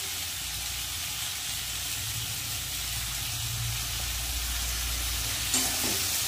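Spice paste with chili powder, cumin powder and salt frying in a pan, a steady close hiss and sizzle throughout with one brief scrape near the end, no voices.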